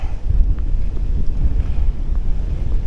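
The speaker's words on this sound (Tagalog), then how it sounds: "Sinasalubong namin yung hangin tsaka ulan." Strong, continuous wind rumble buffets the microphone during a bike ride into wind and rain, with a steady low roar and no voices.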